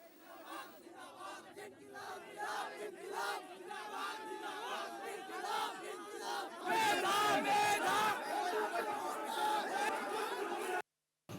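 Students on a celebration march, with a crowd chanting and shouting together, growing louder and denser midway before cutting off abruptly near the end.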